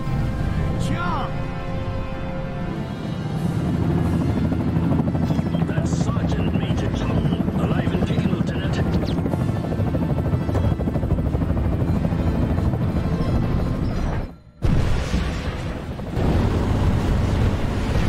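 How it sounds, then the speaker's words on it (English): Military helicopters in the video game Project Snowblind fly in with a loud, steady rotor roar and wind rush lasting through the scene, briefly cut out near the end before resuming. "got choppers coming in from the east."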